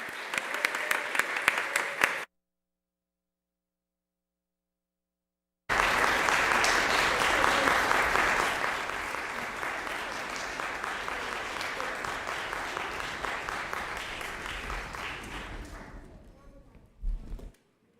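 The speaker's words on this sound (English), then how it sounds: "Let's give them all a big round of applause." An audience applauds the cast of a community show: a short burst of clapping, a sudden gap of silence, then a long, full round of applause that slowly thins and fades, ending with a brief thump.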